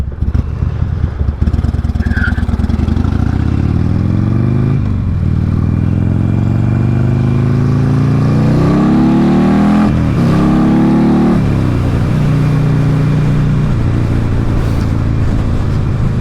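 A 2004 Buell Lightning XB12S motorcycle revs hard and accelerates while filtering between lanes in traffic, its loud, close engine rising and falling through several throttle pulls with gear changes.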